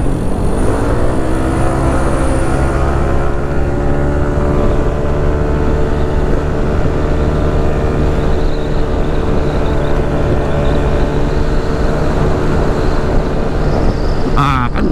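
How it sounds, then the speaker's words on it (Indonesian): A Yamaha Nmax scooter fitted with an upgraded, machined CVT pulley, its engine held at high revs. The drone is loud, close and unbroken for the whole stretch, with a steady, slightly climbing tone. "Kan gerungnya nggak terlalu parah gitu, tapi motornya tetap naik terus RPM-nya gitu."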